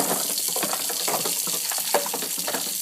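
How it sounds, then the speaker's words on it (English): A part from an Omega VRT350 juicer rinsed under a running tap: steady splashing water with uneven spattering as the piece is turned in the stream, close and moderately loud. "Rinse it out."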